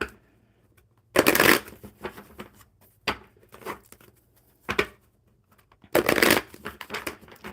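A deck of cards being shuffled in several quick riffling bursts, close and crisp, separated by soft handling sounds and pauses.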